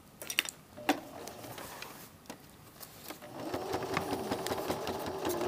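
Sewing machine stitching a blouse collar: a few faint ticks and clicks, then a steady mechanical whir building near the end, quiet and close.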